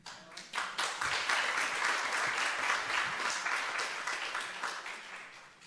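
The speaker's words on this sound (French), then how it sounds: "on peut applaudir" A church audience breaks into applause during a sermon, the clapping rising quickly and holding as a dense, fairly distant wash for several seconds before tapering slightly, with no talk over it.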